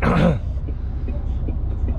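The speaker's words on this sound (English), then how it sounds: "See, I'm nervous, that's why I'm coughing." A man coughs and clears his throat at close range while driving on a London street, a short harsh burst at the start followed by quiet cabin rumble.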